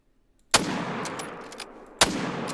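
Two sharp 30-06 hunting rifle shots from the game Call of the Wild, loud and close, each with a long rolling echo trailing off, spaced about one and a half seconds apart.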